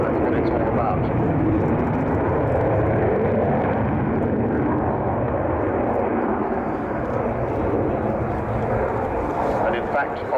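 An Avro Vulcan bomber flies at the RIAT 2015 airshow, a continuous heavy jet rumble that stays loud throughout and slowly eases toward the end, with muffled talk underneath.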